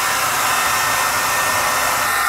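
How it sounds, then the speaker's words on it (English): A blow dryer and heat gun running together during stone coat countertop work aboard a catamaran, giving a loud, steady whooshing hiss of blown air that holds constant throughout, near and alone. "The heat gun's working, the blow dryer's working fine."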